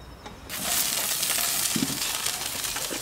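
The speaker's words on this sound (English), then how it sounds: "Just listen to that sizzle." Potatoes begin sizzling in a hot pan on a barbecue after a brief quiet start, a steady crackling hiss that stays loud and close to the end.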